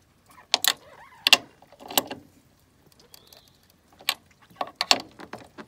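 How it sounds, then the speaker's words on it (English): Bolts being tightened on camber plates during installation on a Mini Cooper S R56, a series of sharp ratcheting clicks and metallic clanks in irregular bursts, with a faint whir between them. "I'm just tightening them down tight, but I'm not stripping them."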